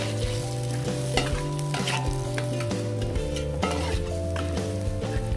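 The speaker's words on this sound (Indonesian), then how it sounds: "masukkan gula jawa yang sudah dipotong dan lalu kita lanjut untuk aduk kembali" Coconut serundeng stirred in a pan with palm sugar, a steady sizzle of frying under repeated scraping and light clinks of a utensil against the pan, continuous and close, with no talking.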